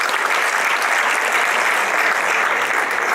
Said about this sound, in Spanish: Fuerte el aplauso para las 4 personalidades